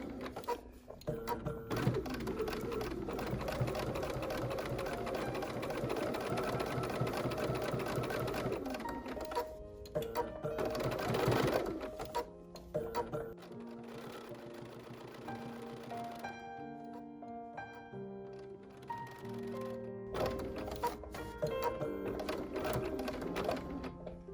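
A sewing machine stitches fabric for a pumpkin trivet, its close, steady mechanical whir running in bursts with short pauses for turning, over faint background music.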